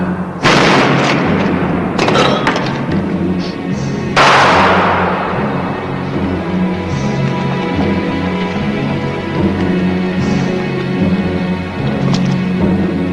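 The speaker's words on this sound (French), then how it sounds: "Mais pourquoi vous tirez en l'air?" Several loud gunshots ring out in a western film scene, sharp cracks with echoing tails, followed by lingering rumble and background music.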